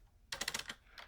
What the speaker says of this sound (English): these keys, they're pretty good. They make a decent amount of noise.